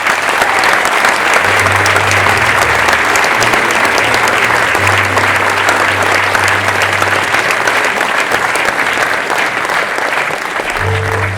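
A theatre audience applauds at the end of a stage show, sustained loud dense clapping for about eleven seconds, with a faint low hum and a brief voice near the end.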